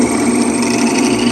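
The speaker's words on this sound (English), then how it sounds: "I'm drilling this for number 10 screws" Power drill boring through hard steel for number 10 screws while repairing a Blackstone griddle leveling foot, a steady loud motor whine sustained throughout without any break.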